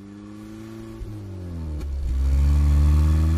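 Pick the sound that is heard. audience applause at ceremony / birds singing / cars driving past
cars driving past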